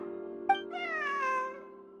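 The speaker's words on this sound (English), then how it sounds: "Wait, where did you get the cat?" A single cat in Genshin Impact gives one drawn-out, clear meow lasting about a second after a brief click, set against a steady background music drone.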